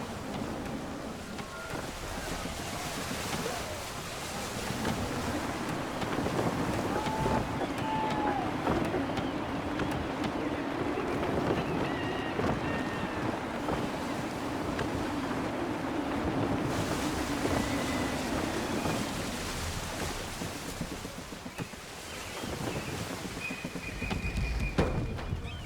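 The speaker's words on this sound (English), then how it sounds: "Gusty winds can be difficult to manage." Steady gusting wind sweeps over a sailing ship at sea in Assassin's Creed III, with waves and surf washing against the hull throughout, a continuous dense roar that swells slightly and holds without a break.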